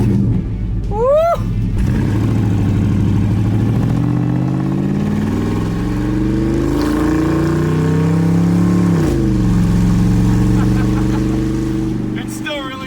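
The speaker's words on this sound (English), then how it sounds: "Man, my car kind of sounds like a Harley Davidson." The engine of a donked station wagon revs loudly and close, its deep throaty tone climbing and falling through several long sweeps, with a brief whistle-like squeal near the start.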